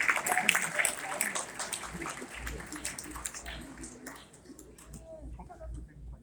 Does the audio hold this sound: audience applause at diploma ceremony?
yes